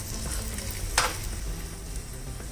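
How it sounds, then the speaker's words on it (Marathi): Asafoetida, turmeric and two red chillies frying in hot oil for a Maharashtrian ambadi bhaji tempering, a steady close sizzle with one brief sharper crackle burst partway through, no talking. "आता हे व्यवस्थित थोडंसं या गरम तेलात परतून घ्यायचंय।"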